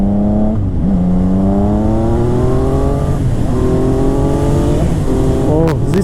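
A Yamaha MT-09 (FZ-09) motorcycle engine revs upward through several gears, each pitch climb cut by a quick shift, loud and close with a rushing wind backdrop.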